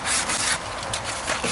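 Power sander working over a wooden surface, a steady abrasive rubbing hiss with a few slight surges in intensity, close and continuous with no voices.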